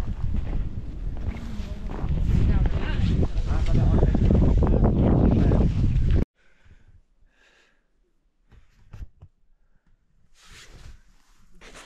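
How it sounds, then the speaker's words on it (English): Strong wind roars loudly at a high-altitude camp on Manaslu for the first half, then cuts off abruptly, leaving quiet stretches with faint rustles and bumps. "Lots of wind up there."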